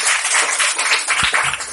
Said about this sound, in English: Let's clap our hands for Mama Rohaima Marandakan.